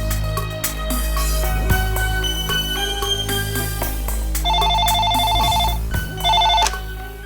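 A telephone ringtone plays in repeated electronic bursts, loud and close, with a steady low hum and scattered clicks and room sounds underneath, and no talking.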